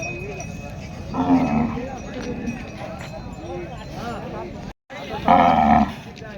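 Bulls at a Sunday cattle market in Pusad, Vidarbha, give two short lowing calls a few seconds apart. Steady crowd noise and murmuring voices fill the background.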